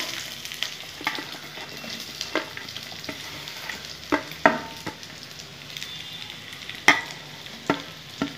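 Onion and chilies fry in hot oil with a dried red chili, a steady sizzle broken by irregular knocks and scrapes of a spatula stirring in the pan, close up with no voices.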